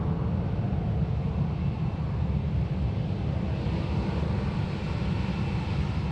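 Airliner rolling down Sydney Airport runway 16 left on departure, a steady broadband jet roar that holds loud and constant throughout with wind-like rumble.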